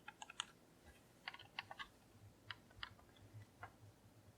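Clusters of small plastic clicks from the D-pad of a green-stripe Enhanced Wired Controller for Xbox One, quick taps in short irregular bursts, close and quiet in an otherwise still room.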